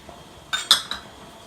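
A spoon clinks against a metal pot while garlic and cilantro are stirred into chili, giving two or three short sharp knocks close by in a quiet kitchen.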